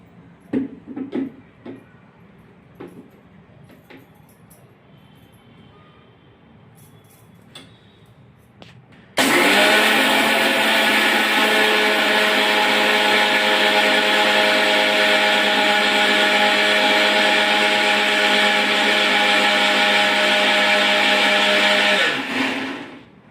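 A kitchen mixer grinder grinds soaked jowar and urad dal. Faint kitchen ticks come first, then the motor starts abruptly and roars loud and steady for about fourteen seconds before winding down.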